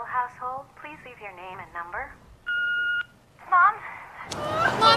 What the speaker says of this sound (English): She's calling her mom, but no answer.